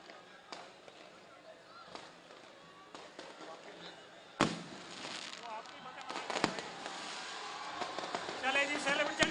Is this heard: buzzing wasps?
no